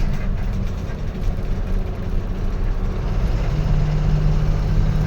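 A multi-level vehicle carrier truck with two trailers and triple axles, hauling cars from Rajasthan to Chennai, rumbles past as a steady, loud low roar of engine and road noise throughout.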